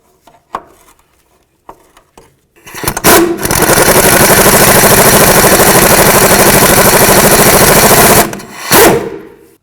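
A power impact tool spins off the outer tie rod end nut on a 1998-2002 Honda Accord, a few light clicks first, then a loud, steady rattling hammer for about five seconds before a short final burst.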